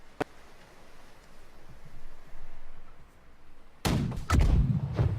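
Cannon broadside fire exchanged between sailing ships in the naval game Blackwake: a single sharp report early on, a quiet stretch, then a cluster of loud booming shots near the end.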